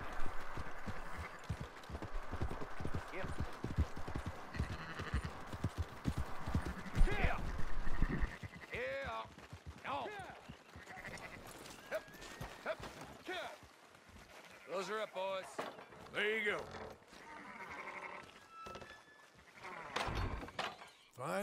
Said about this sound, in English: Oh, sheepies, let's go.